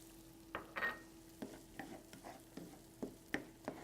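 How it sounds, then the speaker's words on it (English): Onion, about a cup, cooking in a pan over medium heat, with soft sizzling and scattered stirring scrapes and clicks close by, no voices. "Put this to medium heat and add our onion."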